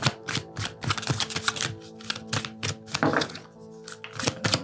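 Tarot cards are shuffled in quick bursts of soft riffling and tapping thuds, close up and uneven in rhythm, with no talking.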